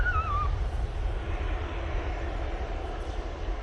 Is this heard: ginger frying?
no